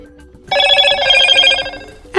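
A Motorola Moto E13 phone powering back on after a soft reset plays a short, bright startup chime with layered tones, sounding clearly at close range for about a second and a half before a faint click.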